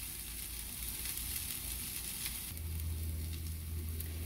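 Onion frying in a pan for chicken with onions, a steady, fairly quiet sizzle with fine crackling and a low hum running underneath, with no voices.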